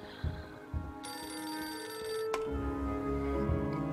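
A telephone bell rings out in the Beholder 2 video game, a sustained metallic trill that cuts in abruptly, holds for over a second, then gives way to a lower ringing tone under a faint low background hum.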